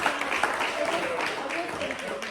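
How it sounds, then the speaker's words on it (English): A round of applause from attendees at a health inequalities network meeting, a steady wash of clapping running the whole time beneath overlapping voices. "can we give you a round of applause?"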